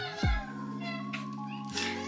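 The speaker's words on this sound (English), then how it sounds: "The cats think they're getting tuna." House cats meow indoors with a short tonal call, followed by a sustained mewing cry, close and moderately loud over a steady background hum.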